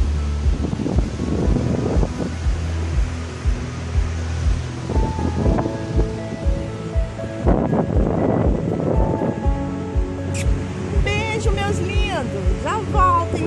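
Sea waves roll in steadily at Piúma beach in Espírito Santo, a continuous broad wash of surf mixed with wind rumble against the microphone, with faint bird calls near the end and no talk.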